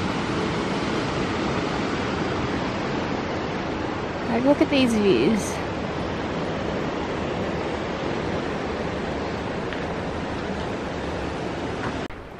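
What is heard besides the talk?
rushing water of a river below a trail in Yosemite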